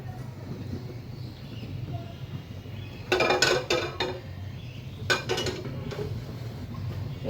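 A cooking pot on a stove with oil going in, preparing a country chicken curry; low steady background hum broken by two bursts of metallic clanks and clinks from the pot, close by.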